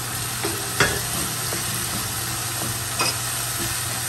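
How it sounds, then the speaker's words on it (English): Spices for butter chicken fry in a pan with a steady close sizzle, while a spoon stirs them with a few soft scraping knocks; no talking. "We'll fry it for a few minutes."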